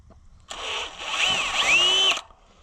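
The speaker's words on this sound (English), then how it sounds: "needs to be drilling these out." A power drill whines up and bites into metal on a livestock trailer for under two seconds, pitch rising and wavering as it cuts, then stops abruptly.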